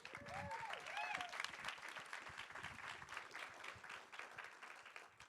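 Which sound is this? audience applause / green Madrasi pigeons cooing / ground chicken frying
audience applause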